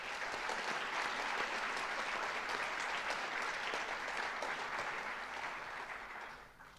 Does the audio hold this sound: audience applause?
yes